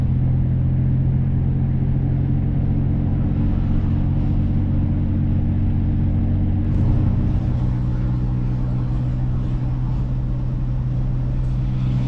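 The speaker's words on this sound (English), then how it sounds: "Some nice driving time with the Capri." A historic Ford Capri 2.8 Injection cruises along the A30 across Bodmin Moor in Cornwall. Heard from inside, the engine drones as a steady low rumble with road noise and no voices.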